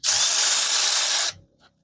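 A power drill-driver spins loose an oil pan bolt on an LS engine during a camshaft install, one steady loud whine lasting just over a second before cutting off, then a faint click.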